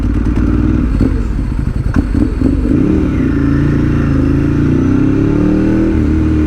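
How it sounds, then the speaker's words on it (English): A Ducati 1098 V-twin motorcycle engine runs loud and close, with a deep, lumpy throb, a few sharp revs early on, then a steady, rising drone. "back singing those lovely tones of the V-twin excellence"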